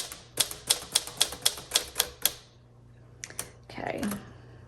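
Keys strike the platen of a 1954 Smith Corona Silent-Super manual typewriter in a quick, even run of about eight crisp clacks, followed after a pause by a couple of softer taps and a mechanical shuffle.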